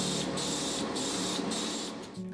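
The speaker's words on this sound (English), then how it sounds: "go ahead and spray your body color. Keep it light over the rust areas" Aerosol spray paint applied in light passes over rusted areas of a model RC car body, a steady close hiss broken by several short pauses between bursts.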